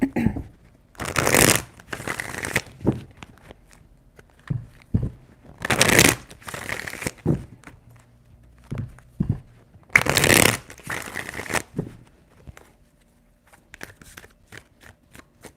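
Tarot cards are riffle-shuffled three times, each a loud, fluttering burst of a second or so, separated by soft handling clicks and taps of the deck.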